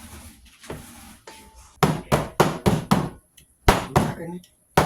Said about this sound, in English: Knocking the bubbles out of them just a little bit.